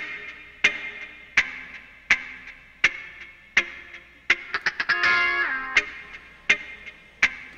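Sharp percussive hits of a music track with added reverb repeat in a steady pulse, each trailing off in a reverberant tail, with a quick cluster of hits midway.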